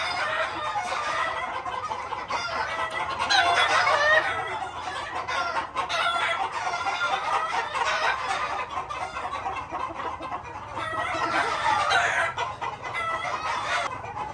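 226 Sweater gamefowl broodcocks cluck and cackle repeatedly, with bursts of louder calling and a crow near the start and again later, heard close against a faint farmyard background.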